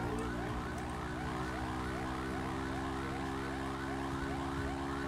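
Several police car sirens wail together in a GTA RP video game, loud and continuous with overlapping rising and falling tones over a low engine rumble.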